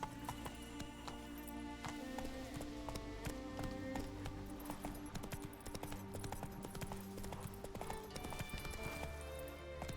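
The horse Roach trotting along a road in the video game The Witcher 3, a steady, rhythmic clip-clop of hooves that continues throughout at moderate volume over soft tonal background sounds.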